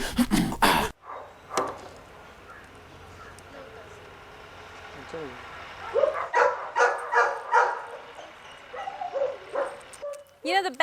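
Dogs at the Pet Sitters boarding place in Pune give bursts of barking, yips and whimpers, some close and loud, in clusters after a quieter stretch.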